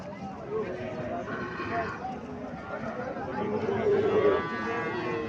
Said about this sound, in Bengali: এখানে একটা শাহিওয়াল জাতের বাছুর দেখা যাইতেছে।